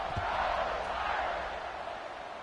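A football stadium crowd at a Notre Dame versus Wisconsin game keeps up a broad, steady buzz of massed voices from a distance, with no single voice standing out.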